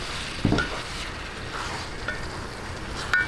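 Mussels sizzling steadily in a hot frying pan with seasoning, with a spoon scraping and stirring through them and a few sharp clinks of metal against the pan, close and continuous.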